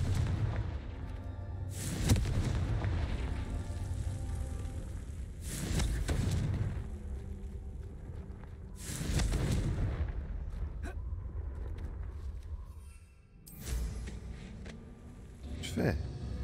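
Confringo spell blasts in Hogwarts Legacy: five loud, booming explosions spaced a few seconds apart, each a broad burst that fades out, over constant background rumble, with a voice talking at times.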